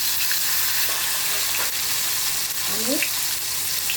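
Turmeric dropped into a hot pan for egg curry sets off a steady, close sizzle and frying hiss, with a faint scrape of stirring near the end and no talking.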